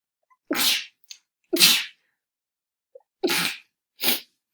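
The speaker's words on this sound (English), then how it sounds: "Sorry, I think I need to sneeze." Four sharp, loud sneezes close to the microphone, spaced about a second apart, with small breaths between them.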